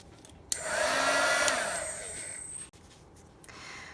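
A heat gun blows for about two seconds, a loud steady airy whoosh with a whining tone, as it melts embossing powder on a tile, then cuts off.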